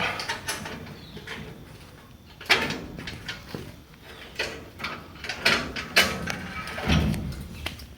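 Cable for a 1966 Ford Bronco tire carrier being wound up, giving a run of close mechanical clicks, ratcheting and metallic clunks with a few louder knocks.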